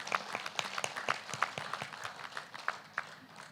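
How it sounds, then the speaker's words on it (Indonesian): Light, scattered clapping from an audience at an inauguration ceremony, a steady patter of individual claps, moderately distant and fairly quiet, with no talk over it. "Tepuk tangan untuk tim yang demo."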